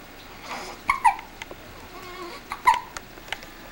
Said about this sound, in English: She's got the hiccups again.